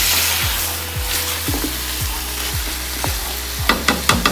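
Squash hits a hot pan while pinakbet is cooked with bagoong, setting off a loud continuous sizzle, with repeated scraping stirs at regular intervals and a few sharper clacks near the end.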